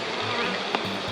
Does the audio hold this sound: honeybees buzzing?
yes